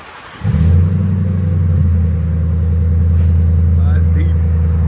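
A 2006 Mercury Grand Marquis 4.6L V8 with a custom H-pipe exhaust, muffler and two tailpipes starts up into a deep, steady, loud idle rumble close by.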